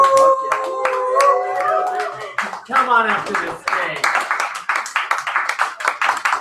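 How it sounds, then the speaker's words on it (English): An audience at an open mic poetry reading claps steadily at close range while a host speaks over the start, and the applause grows denser toward the end. "Keep clapping until your hands go down."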